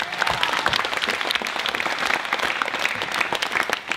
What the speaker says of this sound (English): Give me a round of applause, all right?